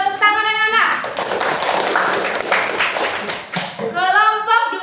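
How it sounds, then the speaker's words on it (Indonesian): Schoolchildren in a classroom break into a loud, dense round of clapping for a few seconds, framed by a teacher speaking before and after. "Yuk tepuk tangan anak-anak."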